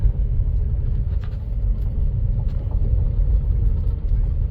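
A car rolls slowly down an alleyway with a steady, loud low rumble of engine and tires. The sound is heard from inside, with little variation throughout.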